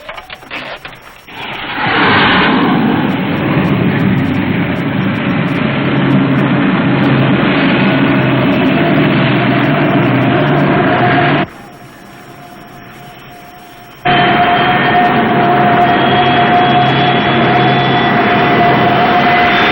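A steady engine held at 2,000 RPM in a 1951 science-fiction film, a loud continuous drone with a strong tonal hum that cuts out for a few seconds, then resumes just as loud.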